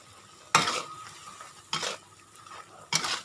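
Home-style stir-frying of Thai basil chicken in a pan: three sharp scraping strokes of a spatula against the pan over a low, steady sizzle, close and clear with no talking.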